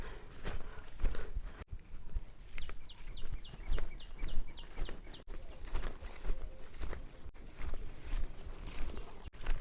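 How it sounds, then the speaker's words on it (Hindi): Wild birds call in a rain-soaked forest near Chitrakoot, including a quick run of sharp repeated chirps, with footsteps crunching along a rough path in the foreground. "जंगली पक्षियों की आवाज़ें आ रही हैं।"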